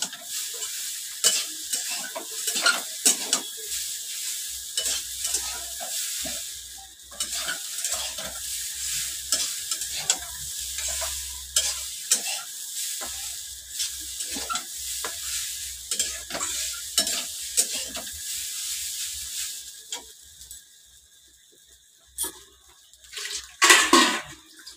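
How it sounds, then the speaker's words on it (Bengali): Potato and egg fried with a pinch of sugar, stirred steadily in a hot pan, giving continuous scraping and sizzling with rhythmic stirring strokes; no talking. "সামান্য একটুখানি চিনি দিয়ে দিচ্ছি, দিয়ে একটু ভালো করে নেড়ে নেবো।"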